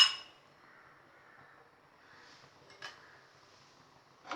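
A kadai set down on the stove to heat ghee for kesari, marked by a metallic clink at the start, then soft clatters and a faint ringing knock near the end in a quiet kitchen.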